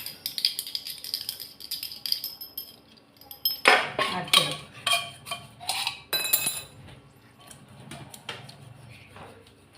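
Dishes and pots are washed on a kitchen countertop. Metal and steel utensils clink, rattle and knock in irregular bursts, some sharp clatters loud and close, with quieter scraping and splashing between them and no talking.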